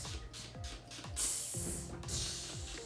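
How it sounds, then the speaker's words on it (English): Heat protection spray from a trigger bottle misted onto damp hair, two bright hissing bursts standing out over a background of clicking and mechanical rattling. "we're going to put your heat protection spray on, which is from Mark Hill"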